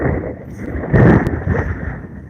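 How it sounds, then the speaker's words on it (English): Strong wind buffeting the microphone in a loud, continuous low roar, with a heavier gust swelling in the middle. "See, that's how windy it is."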